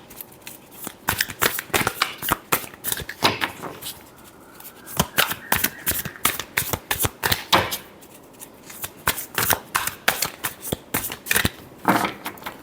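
Tarot cards are shuffled by hand in rapid, repeated riffling bursts, crisp and close, continuing in uneven clusters with short gaps.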